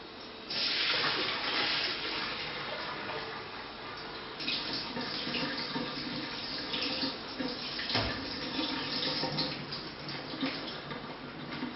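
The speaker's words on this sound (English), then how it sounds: "I'm going to drain them and rinse them in cold water" Steady running water from a tap pours and splashes as noodles are drained and rinsed in cold water, continuous for several seconds with no talking.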